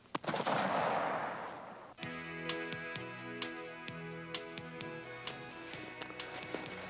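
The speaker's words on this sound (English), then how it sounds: "Jackie always likes to sight in his rifle when reaching the hunting camp" A single loud, sharp rifle report with a long noisy tail is fired while sighting in at a hunting camp. Music with a steady beat begins right after the shot.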